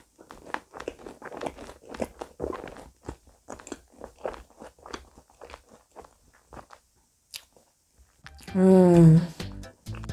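A croffle gets bitten and chewed close up, giving a run of sharp, crisp crunches. A short voiced hum comes near the end.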